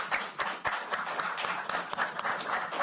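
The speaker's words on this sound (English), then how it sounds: "may you all please join me in a round of applause as thanks for having them here" Audience members applaud at a voters' forum, giving dense, steady hand clapping from a roomful of people throughout the short stretch, with no speech over it.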